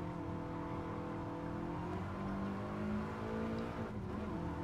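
Engine note from cars in Gran Turismo Sport, a steady harmonic drone that shifts pitch as it revs and changes gear, loud and continuous with no talk over it.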